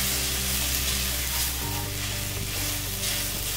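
Two tablespoons of Berbere spice mix sizzle and fry in a hot Dutch oven, a steady dense crackle with bursts of stirring, close and loud throughout.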